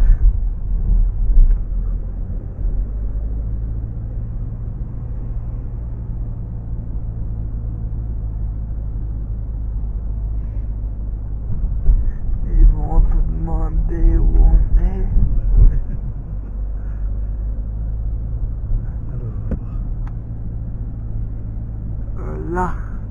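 A Volvo C30 driving fast, heard from inside as a steady low engine and road rumble that holds throughout, with people talking over it in the middle and near the end.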